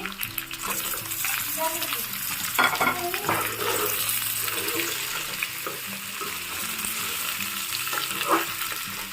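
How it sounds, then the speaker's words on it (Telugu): Crabs fry in oil with onion and ginger-garlic paste, giving a steady, close sizzle with watery crackle and intermittent stirring clatter against the pan throughout. "ఇప్పుడు దీంట్లో నేను పీతలను వేసుకుంటున్నాను వేసుకుని ఇవి కూడా కొంతసేపు మగ్గించుకుంటానండి"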